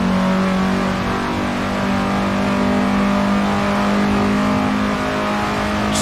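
A 1950s Indy race car engine in Assetto Corsa drones loudly and steadily under throttle, a sustained, close, mid-pitched roar with no talk.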